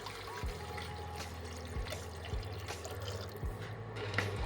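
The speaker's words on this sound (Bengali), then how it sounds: "1 লিটার মতন জল দিয়ে দিচ্ছি" Roughly a litre of water poured into a pot of chicken bones and stems for chicken soup stock, a soft, steady trickle with faint drips, fairly quiet against a low background hum.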